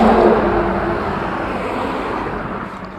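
Cars travel along a forest road, a broad rushing roar of a passing vehicle that is loudest at the start and slowly fades, with no speech.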